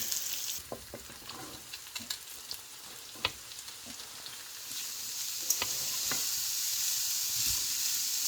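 Curry leaves and broad beans fry in a pan with a steady crackling sizzle, broken by scattered pops and stirring scrapes, the hiss thickening and growing louder toward the end.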